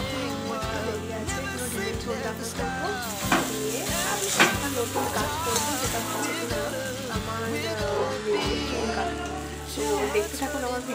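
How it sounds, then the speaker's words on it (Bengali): Cabbage fries in a pan on a home stove, a steady, close sizzle that runs the whole time beneath a voice talking and a bed of tonal background sound. "এই দেখুন আমি বাঁধাকপি ভাজছিলাম"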